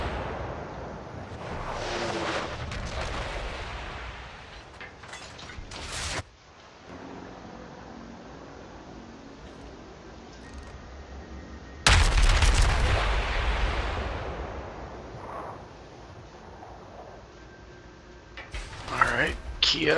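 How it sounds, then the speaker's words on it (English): Naval gunfire in a warship battle game, with heavy cannon blasts booming at about 6 and 12 seconds and lighter shots and impacts in between, while someone talks over the fight. "I was kind of shooting blindly over the mountain at the Kiev."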